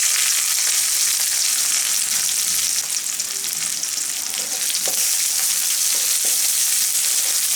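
Chopped onion frying in a pan of oil with whole garam masala, giving a steady, loud sizzle throughout, with a few faint clicks of stirring near the end.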